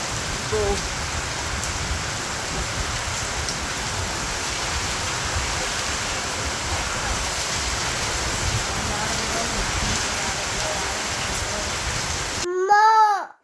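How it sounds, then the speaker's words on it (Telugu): A hailstorm of large hailstones pours down in a dense, continuous hiss and patter, steady and loud throughout, ending abruptly with a brief burst of different noise. "చూడండి వడిగిన అయితే ఎంత లావు ఉందో, ఇంత లావు పడుతున్నాయి వడిగిళ్ళు అయితే"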